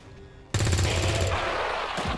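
A burst of gunfire from one shot in the video game XCOM 2, loud and sudden after a quiet moment, sustaining a rattling roar for over a second.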